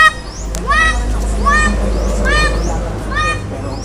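A large crow calls loudly and close by, giving about four harsh, rising caws at a steady pace against a low, constant background hum.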